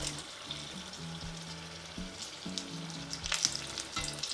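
Batter-coated chilli fritters (mirchi) bubble and sizzle in a pan of hot oil, a close, busy crackle with occasional louder spits and spatula clinks.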